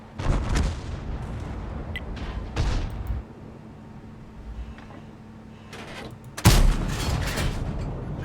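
Heavy artillery fire in World of Tanks: a few deep, booming shots scattered through the stretch, with the loudest and sharpest blast landing near the end and rumbling on afterward.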